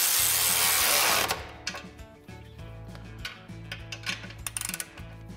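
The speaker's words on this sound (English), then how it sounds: "now you can tighten the factory clamp." A short rush of noise gives way to quick, uneven mechanical clicks and ticks as a factory exhaust clamp is tightened on a Ford Bronco, close-up and fairly quiet.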